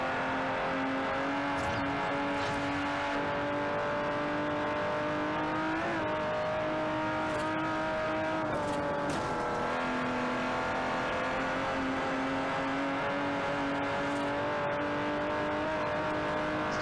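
Car engine accelerating in the racing game Forza Horizon, a continuous loud revving drone climbing steadily in pitch with brief dips as gears shift, running alone throughout.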